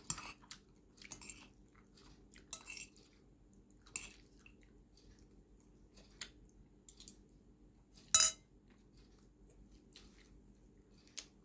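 Close, quiet chewing and biting of food, soft crunchy and wet mouth sounds in scattered bursts with one sharper crunch, over a low steady background hum.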